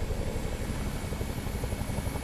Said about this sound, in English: That's such a nice sound to hear a helicopter in the distance, right?